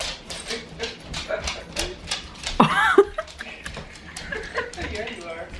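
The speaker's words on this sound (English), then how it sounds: "The dogs are loud too." Dogs barking and whimpering in a home kitchen, short yelps and whines breaking out between stretches of conversation, with a louder cluster of sharp calls near the middle and people talking throughout.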